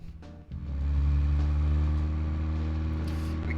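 Car engine in the video game Deadly Premonition, a steady low drone that swells as the vehicle pulls away and then holds a constant rumbling hum, close and alone.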